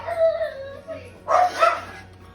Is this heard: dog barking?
yes